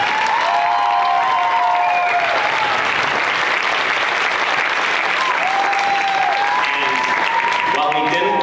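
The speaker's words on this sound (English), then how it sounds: "can you give them a round of applause for that?" A school fall band concert audience gives loud, sustained applause with scattered cheers and whistles, a dense crowd sound close and continuous throughout.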